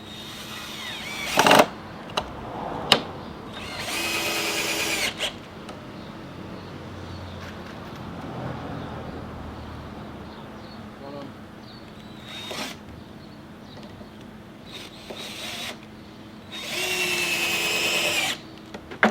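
A power driver sinks 50mm 8-gauge screws into a wooden bench hive in several bursts, whirring loudly for a second or two each, with quieter handling and shuffling between them.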